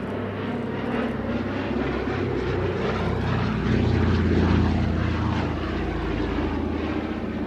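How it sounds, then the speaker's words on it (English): A propeller airplane drones loudly and steadily as it comes in to land, the engine sound close and continuous with no pauses. "You're going to see Ol actually land that beautiful, huge, big"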